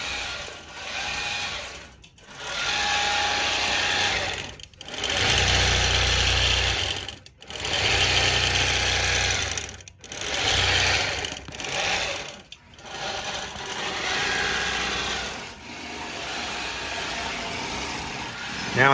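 Three long arm quilting machines stitch at once, producing a loud, rapid mechanical buzz in repeated bursts of a few seconds, each cut off by brief near-silent pauses.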